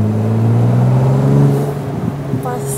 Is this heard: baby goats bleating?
no